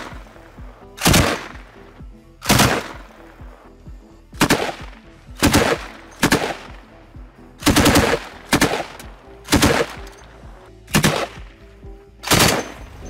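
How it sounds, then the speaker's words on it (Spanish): Kord heavy machine gun firing in real life: eight short, loud bursts of automatic fire spaced roughly a second or two apart, each a sharp booming rattle that quickly falls back to quiet between bursts. "sí les puedo mostrar un videito de cómo dispara en la vida real"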